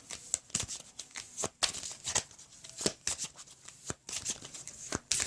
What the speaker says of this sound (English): I'll give it a couple more shuffles.